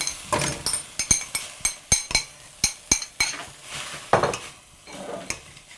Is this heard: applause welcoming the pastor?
no